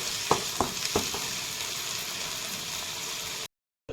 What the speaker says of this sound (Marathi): कांदा टमाट्याची प्युरी टाकून घेतली आहे ती छान आता तेल सुटेपर्यंत आपण परतून घेणार आहोत